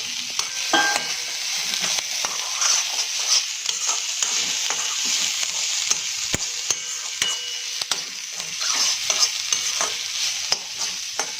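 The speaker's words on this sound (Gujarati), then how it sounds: "થોડી વાર માટે આપણે હલાવીશું" Tomato and chili frying in a pan for quinoa upma while being stirred, a steady close sizzle broken by frequent scraping spoon strokes, no voices.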